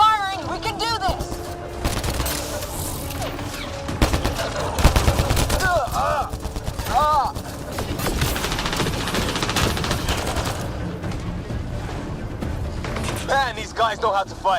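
Rapid gunfire crackles through a firefight in Mass Effect: Andromeda, dense bursts and single shots overlapping almost continuously, with shouted voices breaking in between volleys.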